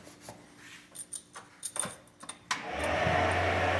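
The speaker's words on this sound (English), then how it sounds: "So you can hear the fans firing up." A steady broadband whoosh of aircraft cockpit cooling fans spins up partway through and holds, following a few clicks and small handling knocks.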